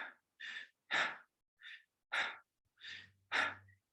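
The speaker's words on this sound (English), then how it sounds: "Shallow breathing, which is this" A person breathes in short, shallow breaths as a demonstration, six or seven quick airy puffs spaced about half a second apart, close and alone with silence between them.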